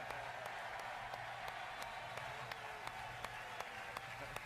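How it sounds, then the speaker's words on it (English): Studio audience applause on the Letterman late-night talk show, greeting NBA legends Magic Johnson and Larry Bird; steady, fairly quiet clapping from a crowd that runs on continuously without a break. "Dang, he's been clapping for like straight 30 seconds."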